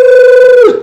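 A phone rings with a single sustained electronic tone for an incoming call, loud and close, cutting off abruptly near the end.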